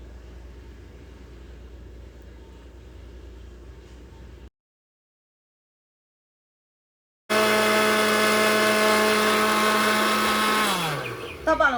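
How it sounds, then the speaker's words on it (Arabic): An electric blender whips yogurt cake batter: a faint low whir first, then a pause of silence, then a loud, harsh motor whine that holds steady before winding down at the end. "احنا هنضربها الاول في الخلاط على السرعة المنخفضة شوية"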